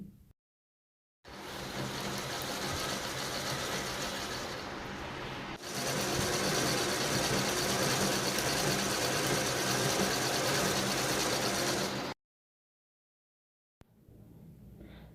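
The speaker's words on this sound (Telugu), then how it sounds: "చక్కగా మనం కుట్టేసుకుంటా ఉంటే శారీ కూడా ఇట్లా కదులుతూ ముందుకు వెళ్తుంది" A sewing machine runs steadily while stitching a fall onto the edge of a saree, a dense mechanical whir that continues for several seconds, pauses briefly, then resumes and stops, with a quieter burst near the end.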